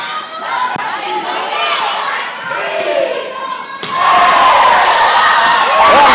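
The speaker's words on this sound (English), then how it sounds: "This place is already rocking. It's an over-capacity crowd." A packed, over-capacity crowd in the bleachers at a high school volleyball district final roars with steady cheering and shouting, growing louder and fuller partway through, with thuds and scattered yells in the din.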